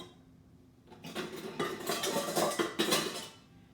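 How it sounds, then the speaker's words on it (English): A spatula scrapes down a mixing bowl of vanilla American-style buttercream in several close, rough strokes and clinks, steady for a few seconds with no talk. "scrape that bowl down real quick"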